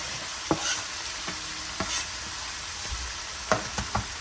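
Diced onion and chopped chili fry with cooked meat in oil over medium-high heat, giving a soft, continuous sizzle broken by several sharp scraping knocks as a spoon stirs the pan.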